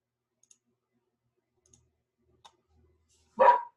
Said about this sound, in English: My dog likes to bark at all the cars going by.